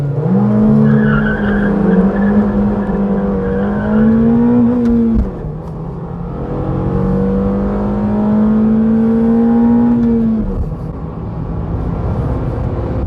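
A Honda Civic sport sedan revs and accelerates hard from standstill toward 100 km/h. The loud engine note climbs steadily through two long gear pulls, with a brief dip at the shift, heard from inside the car.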